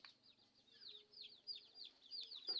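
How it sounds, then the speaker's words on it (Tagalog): Several chickens cluck in quick repeated calls, faint and somewhat distant, with a short louder squawk near the end. "Ang daming manok."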